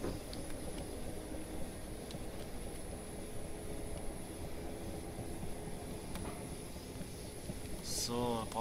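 A Class 455 electric train coasts downhill on the Portsmouth Direct line in Train Simulator 2019, giving a steady, low rolling rumble with faint whirring and a brief rising whine near the end.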